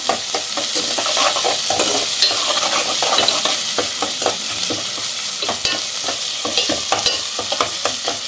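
Ginger-garlic paste is fried in a pan for a goat head curry, stirred continuously with loud, close spoon scrapes over a constant bright sizzle.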